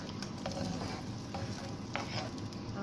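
Vegetables fry for a Greek-style bean dish, giving a steady close sizzle in the pan, with a few light stirring scrapes over a quiet background.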